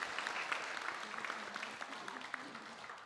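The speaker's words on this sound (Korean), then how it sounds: "우리 다시 한번 격려의 박수." Congregation at a Korean Sunday church service applauding children, a moderate, fairly distant patter of clapping that continues evenly throughout, with a little speech mixed in.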